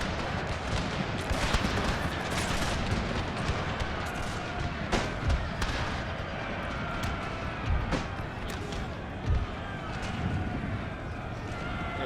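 Musket volleys ring out in a Total War battle set in the Thirty Years' War, with Habsburg troops firing: scattered distant gunshots crackle over a dense battlefield din, with sharper reports recurring irregularly.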